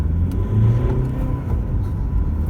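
A Honda Accord 2.2 i-DTEC Type S diesel engine rumbles and builds steadily as the car pulls away from a standstill and accelerates, a continuous low drone with no voices.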